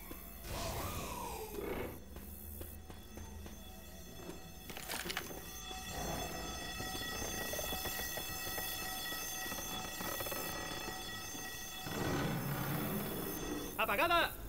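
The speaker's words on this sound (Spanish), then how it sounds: "¡Esa alarma me pone de los nervios!" An alarm in the video game Left 4 Dead 2 rings insistently for several seconds, with game noise and excited talking layered over it until it cuts out near the end.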